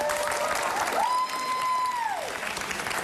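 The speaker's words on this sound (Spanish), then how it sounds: "Un aplauso para las bailarinas." Audience applause for dancers on a television variety show, a dense wash of clapping from a crowd, fairly distant and steady, with a singing or sustained voice tone rising over it partway through.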